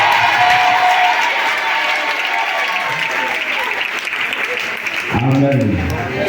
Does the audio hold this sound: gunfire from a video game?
no